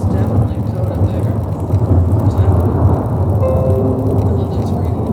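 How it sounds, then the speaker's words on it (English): Steady rain with low rumbling thunder from a thunderstorm in the video game Pentiment, a dense continuous wash that holds throughout at fairly loud level. "I love that it's raining. I love that thunderstorm."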